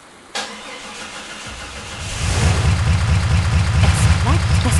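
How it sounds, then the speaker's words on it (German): A video game car engine cranks and catches, then settles into a steady rumbling idle after a sharp click at the start. "das Auto springt tatsächlich noch an"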